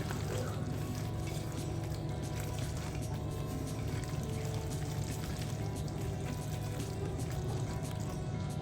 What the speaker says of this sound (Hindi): मैं इसमें मज़ीद थोड़ा सा और पानी ऐड करूँगी।